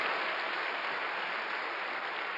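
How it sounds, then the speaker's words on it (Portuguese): A congregation applauds during a Sunday church service, a dense, steady wash of clapping that stays fairly faint and distant for the whole stretch. "Pode dar um aplauso ao Senhor Jesus"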